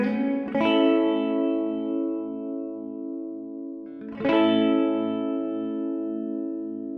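Electric guitar through a Swindler Effects Red Mountain Tremolo pedal on its sine wave setting: two sustained chords, each struck and left ringing while the volume pulses smoothly, played alone and close.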